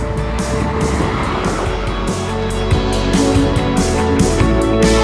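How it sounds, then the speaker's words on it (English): A 2019 Nissan Micra with an automatic gearbox drives slowly in traffic, a steady close engine drone with tyre and road noise inside the cabin, rising slightly toward the end, with no talk. "A little drive in the automatic Micra."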